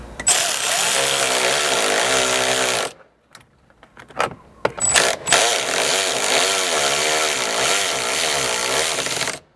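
A power tool runs in loud, sustained bursts while tightening a nut onto a roof rack stud on a Ford Maverick, stopping briefly midway with a few short blips before running steadily again.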